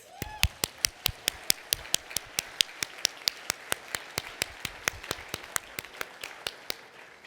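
Steady, evenly spaced claps from a small group of staff members in the audience at a community organization's evening event, crisp and close, about thirty sharp hand strikes in a regular rhythm with no voices.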